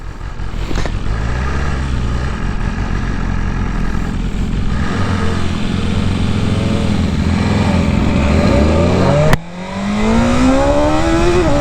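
A BMW S1000RR sport motorcycle accelerates at half throttle, its engine note climbing steadily and loud up close, then a sharp shift or throttle change near the end sends the pitch sweeping upward again.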